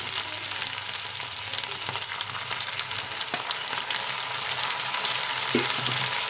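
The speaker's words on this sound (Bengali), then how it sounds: "আলুগুলো ভালো করে পেঁয়াজের সাথে ভাজা হয়ে এসছে" Potatoes and onions fry in a pan with chopped tomato added, giving a continuous close sizzle and crackle throughout with occasional stirring knocks and no voices.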